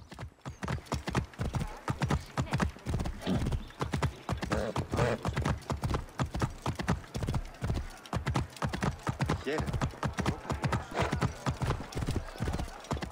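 Horse hoofbeats while riding in Assassin's Creed Origins, a steady rapid clip-clop of galloping hooves on the ground, continuous and close, with an occasional faint snort over the gait.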